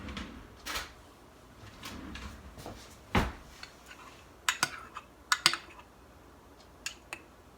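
A kitchen drawer is pulled open to fetch a spoon, giving a scattering of faint sliding bumps and sharp metallic clinks of cutlery spread over several seconds in a quiet room.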